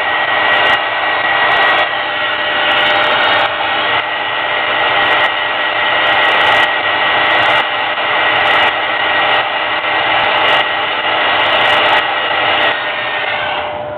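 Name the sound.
hair dryer drying paint on a miniature figure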